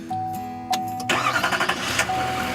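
The diesel engine of a 2015 Chevy Silverado 3500 HD 4WD pickup cranks briefly, then catches and starts, settling into a loud, rough, clattering idle close by.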